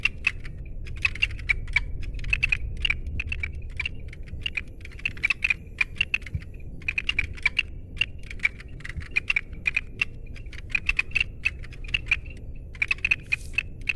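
Steady rapid keyboard typing in the video game The Station, crisp clicky keystrokes in quick irregular bursts over a low ambient hum, continuing throughout with no talk.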